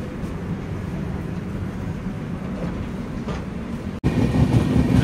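AP Express, train 20805 from Visakhapatnam to New Delhi, running at speed after leaving Warangal, heard from inside a coach as a steady, loud rolling rumble with a brief dropout near the end.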